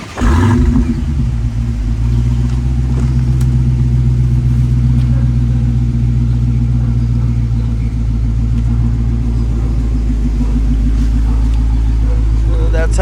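Stock Dodge Challenger Hellcat Redeye with 5-inch exhaust tips starts up with a sharp bark, then settles into a deep, loud, sustained rumble close by, with a voice talking briefly over it.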